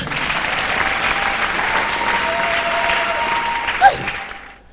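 A church congregation claps together to acclaim the Lord, a steady dense roar of many hands, loud and sustained, with a short tone and a brief voice near the end.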